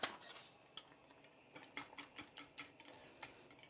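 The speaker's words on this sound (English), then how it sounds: "I'm going to give that a quick whisk" Whisk clicking and scraping against a bowl as a mixture is beaten, a quick run of light rhythmic metallic taps, close and fairly quiet, with no talking.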